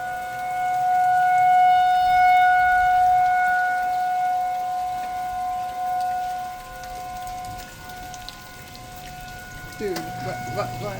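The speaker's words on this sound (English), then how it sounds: "tornado siren going off." A civil defense tornado siren sounds during a rainstorm, its steady wailing tones held for several seconds, then fading, with rain patter throughout and a brief burst of movement near the end.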